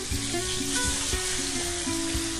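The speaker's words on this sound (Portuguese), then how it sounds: "Não precisa fritar muito, não. Só uma seladinha mesmo, pra ele ficar crocante." Food sears in a frying pan on a television cooking show, briefly sealed so it turns crisp, making a loud, continuous sizzle and crackle up close, with spoon or pan scrapes now and then.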